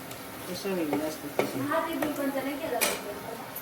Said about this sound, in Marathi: तर मस्त फ्राय करून घेऊया